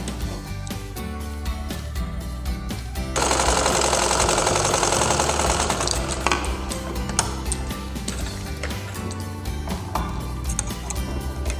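A sewing machine stitches a simple blouse, its needle ticking in rapid regular strokes with a denser whirring run in the middle, close by and alone.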